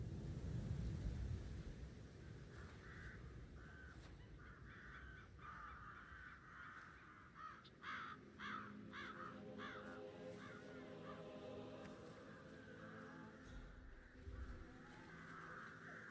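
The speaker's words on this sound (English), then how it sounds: "Rid of those stupid birds." Crows caw repeatedly in a Hitman 3 outdoor level, several harsh calls in a row over steady wind-like ambience and a low rumble.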